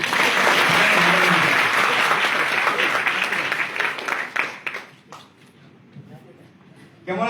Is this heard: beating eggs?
no